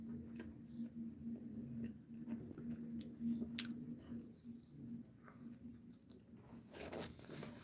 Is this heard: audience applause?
no